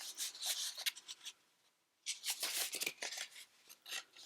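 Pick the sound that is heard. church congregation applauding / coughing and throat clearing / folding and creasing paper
folding and creasing paper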